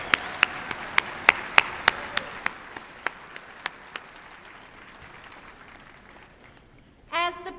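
Audience applause at a graduation ceremony: a few sharp, spaced claps ring out at first, thinning and fading over several seconds, followed by a brief burst of noise at the end.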